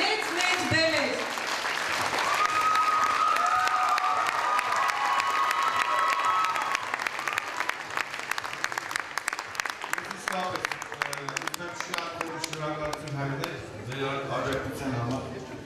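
An audience at an annual children's concert by an art studio claps in sustained, dense applause that stays loud and steady, then breaks into more scattered clapping as a voice speaks over it.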